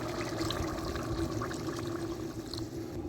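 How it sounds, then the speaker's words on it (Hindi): Water poured into a pan of frying onion and chicken, a steady pouring and sizzling wash that runs without a break at close range. "तो चिकन और प्याज को भूनने के बाद थोड़ा सा इसमें हम पानी डालेंगे।"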